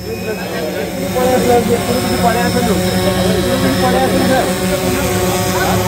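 A camera drone flying over an urban motorcycle shoot for the Hero Xtreme 160R in Odisha gives a steady, loud droning whir that holds throughout, mixed with background voices and outdoor noise.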